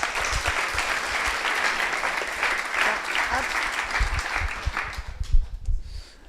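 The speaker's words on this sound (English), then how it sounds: "give a round of applause to them." An audience claps loudly at an evening startup pitch event as a team comes up on stage, with dense applause that tapers off toward the end.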